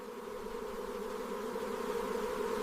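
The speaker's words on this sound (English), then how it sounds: "thousands of bees travel together as one living cloud" A swarm of bees in flight makes a steady, dense buzzing drone that hangs close and continuous, slowly swelling in loudness.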